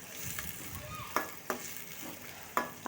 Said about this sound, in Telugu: ఆనియన్స్ని ఒక రెండు మూడు నిమిషాలు మగ్గించుకోవాలి